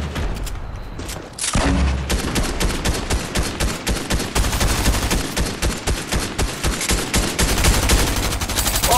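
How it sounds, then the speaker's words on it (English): Rapid video game gunfire rattles out in dense, continuous bursts as a player shoots at an opponent's built structures, loud and close with a sharp start after a brief quieter lead-in. "Just shoot at his builds."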